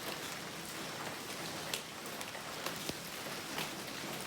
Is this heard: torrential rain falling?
yes